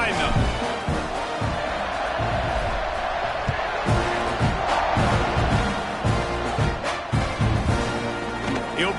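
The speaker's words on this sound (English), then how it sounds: "this crowd now ready to get behind them" A football stadium crowd at an FSU game roars in a broad, sustained wash of cheering and shouts, with a commentator talking over it throughout.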